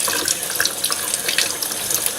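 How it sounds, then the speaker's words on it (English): Cold tap water runs steadily into a kitchen sink over blanched romaine tomatoes, a close, continuous splashing hiss with no talk. "Now I'm going to take a little knife and run cold water over so I don't burn myself."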